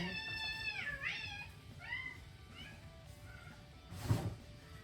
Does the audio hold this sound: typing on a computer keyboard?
no